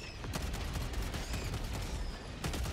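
Dense automatic gunfire rattles nonstop in the video game Helldivers 2, with sharp bursts of rapid shots, heavier impacts near the start and end, and a constant loud battle din.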